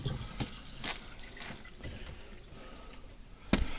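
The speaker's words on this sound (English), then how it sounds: "There's water coming out over here." Water leaks from the plumbing under an RV bathroom sink with a faint, steady trickle and scattered drips, then a sharp knock near the end.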